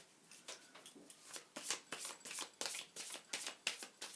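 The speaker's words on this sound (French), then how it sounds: "laissez-moi mélanger parce qu'il faut que je me concentre" Tarot cards being shuffled by hand in a steady run of crisp riffling bursts, about two or three per second, close and fairly quiet with no talk.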